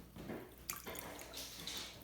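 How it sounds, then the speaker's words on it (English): A sponge dunked and soaked in water, giving soft sloshing and a few brief splashy drips, quiet and close with no voices. "you have to take your sponge and dip it in the water and get it nice and soaking wet."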